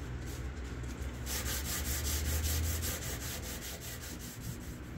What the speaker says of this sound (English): busting out the mini block with 220 grit